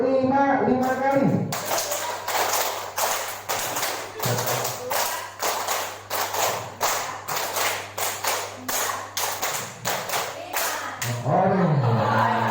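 Group of workshop participants clapping together in a steady rhythm, a long run of sharp, fairly loud claps that fill the room, with voices briefly heard before and after.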